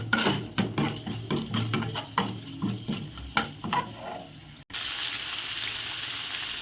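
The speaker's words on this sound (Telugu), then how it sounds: "ఇవైతే వేయించుకోవాలి కొంచెం" Ingredients fry in a pan for Bombay chutney, a savory side served with puri: rhythmic scraping stirs and clicks come close up, then a steady, loud sizzle takes over and continues alone.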